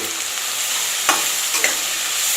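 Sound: yogurt being added and stirred into steamed katla fish

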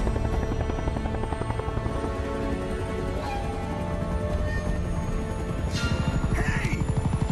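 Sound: helicopter lifting off in video game Uncharted: Drake's Fortune

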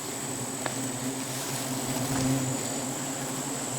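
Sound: bees buzzing around a wild nest

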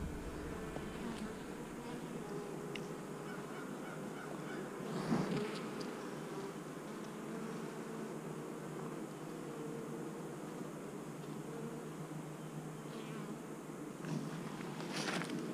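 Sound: honeybees buzzing around a two-frame nuc hive

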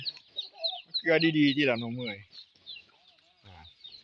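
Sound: chickens clucking

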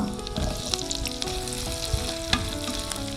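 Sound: chopped garlic, green chilies and onion frying in oil

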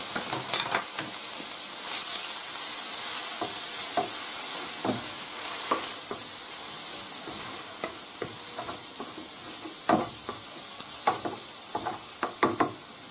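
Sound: onion sautéing in a pan for paella

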